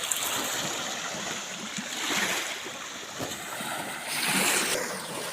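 Sea waves wash and surge along a shoreline, a steady rushing noise with two gentler swells, mixed with wind, and no voices.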